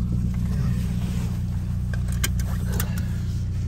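Car driving along with a steady low engine drone and road rumble inside the cabin, with small clicks and rattles in the second half.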